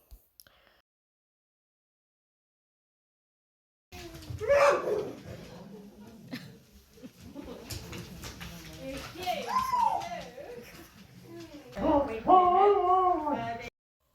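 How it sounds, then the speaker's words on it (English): Husky dogs at an Arctic wilderness centre near Tromsø, Norway, howl and whimper in rising, wavering calls, growing louder toward the end while a person talks over them. "The Tromso Wilderness Centre is home to over 100 husky dogs."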